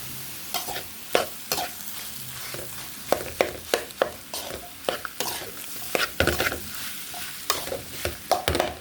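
Potato samosa filling stirred in a pan, with repeated spoon scrapes and clacks at an uneven rhythm over a steady low sizzle, close and fairly loud with no talking.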